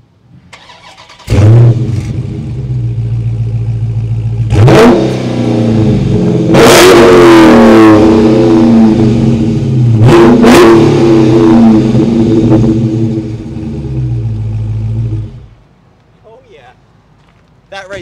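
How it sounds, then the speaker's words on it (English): A Dodge Charger engine revs hard through large dual exhausts, with a loud, close bursting roar that swells and falls in several surges over about fourteen seconds before cutting out to near quiet. "That right there, that's how an engine should sound."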